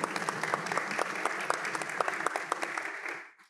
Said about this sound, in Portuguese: Muito bom, palmas.